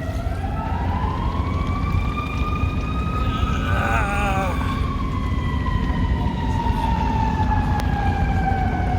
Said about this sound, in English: And now you hear emergency vehicle sirens, ambulances.